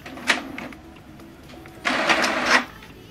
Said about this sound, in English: So this document now is going to print out.